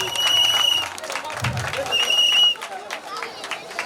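Church congregation applauding and acclaiming the Lord at a thanksgiving celebration, a steady wash of clapping and crowd noise mixed with singing voices and a brief low thump, fairly loud throughout.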